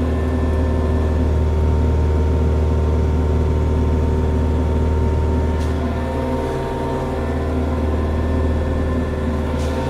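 A tractor grading a gravel driveway with its blade raised slightly: a steady, loud diesel engine drone holds throughout with a low rumble and faint scraping, no voices.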